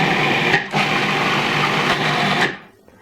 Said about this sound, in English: drop it in my food processor. And then just pulse until it's the consistency that you would like.